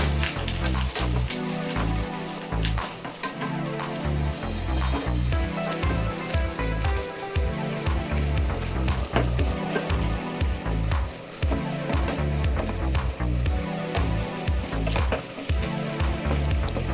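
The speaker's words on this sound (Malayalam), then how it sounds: "ഈ കരിവേപ്പിലയും കൂടി ഇട്ട് നമുക്ക് തേങ്ങ വറുത്തെടുക്കാം." Grated coconut roasting with curry leaves in a pan, a steady close sizzle and crackle running for the whole stretch with some stirring, no talk.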